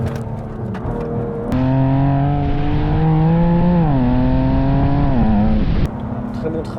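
BMW M2 Competition with a 500 hp engine revving hard while driving, its loud rising and falling drone sustained for several seconds, with a lighter engine hum before and after.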